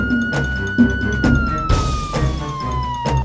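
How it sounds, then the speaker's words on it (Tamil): An ambulance siren wails steadily through the whole stretch of road traffic, loud and fairly close, with a long gliding tone over a dense rumble of passing vehicles. "அந்த வழியாக ஆம்புலன்ஸ் ஒன்று வந்துள்ளது"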